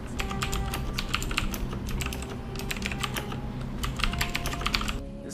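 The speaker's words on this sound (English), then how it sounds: "You can hear Brooke typing on the keyboard right now." Steady, rapid clacking of keys on a mechanical-switch gaming keyboard, heard up close with no voices, the strokes coming in a dense, continuous run with brief pauses between them.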